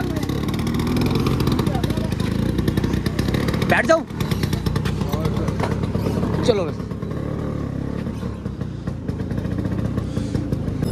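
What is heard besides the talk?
scooter riding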